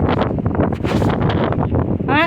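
Strong monsoon-season wind sweeps across Nandi Hills near an old stone temple, a loud, continuous buffeting roar on the microphone with voices talking underneath.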